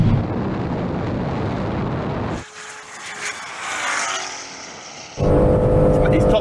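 A Nissan GTR R34, a BMW M3 and a Ford Mustang race at full speed in a straight-line run. Loud engine roar and rushing wind dominate, drop to a quieter, airy whine midway, then surge back, with someone talking excitedly over it.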